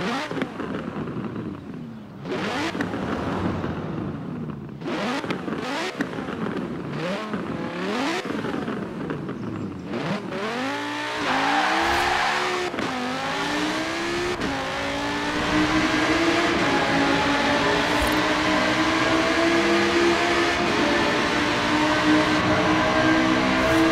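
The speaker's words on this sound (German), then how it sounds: "wir machen den kleinen Klangcheck und gucken mal, wie der V10 beim Sesto Elemento erstmal so klingt" Lamborghini Sesto Elemento with a V10 engine in the Forza Horizon 4 video game, revving hard and shifting up through the gears inside a tunnel, loud and continuous with rising engine pitch sweeps and echoing boom.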